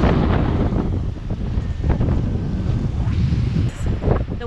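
Strong wind buffets the microphone as waves wash onto a rocky beach on a small peninsula at Bahia de Los Angeles, Baja California. It is a loud, continuous roar with no speech.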